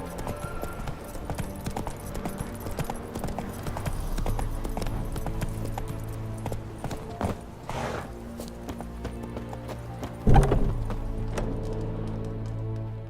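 Roach, Geralt's horse in The Witcher 3, clip-clops along at a steady trotting rhythm, hooves close and clear, with a sharper thud near the ten-second mark.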